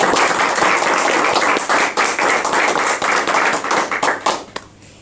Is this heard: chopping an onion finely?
no